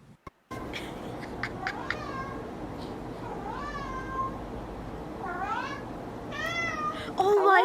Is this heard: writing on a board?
no